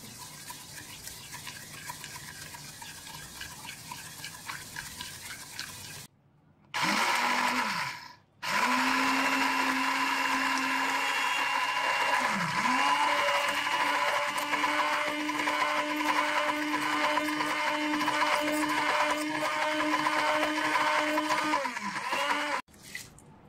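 Pound cake batter made with butter and ghee is beaten by an electric mixer, a loud, steady motor whine that stops briefly twice before running on for a long stretch.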